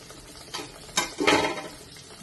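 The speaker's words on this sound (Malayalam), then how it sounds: "ഇതുപോലെ ഇങ്ങനെ ഇട്ടുകൊടുത്തിട്ട് പൊരിച്ചെടുക്കാം" Khameer bread dough dropped into hot oil to fry, giving short stirring and splashing bursts with a soft sizzle, close by and fairly quiet, no talk.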